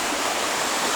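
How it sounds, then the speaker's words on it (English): Creek water rushes steadily as a constant broadband wash during a winter hunt in the Wellington hills, close and loud with no pauses or voices. "I've made it down to the creek"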